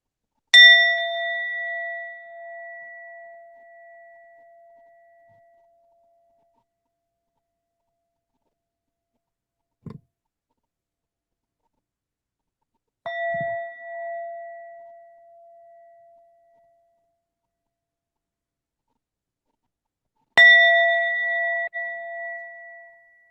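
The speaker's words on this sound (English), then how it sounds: "You weren't expecting those multiple bells, were you, Darrell?" Bells ring out with clear metallic strikes used for vibration during a breathing exercise. Each ding is followed by a long fading tail, and the rings are spaced well apart in near silence, with one soft low knock between them.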